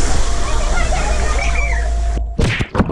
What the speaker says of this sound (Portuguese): isso aqui tá soltando muita água forte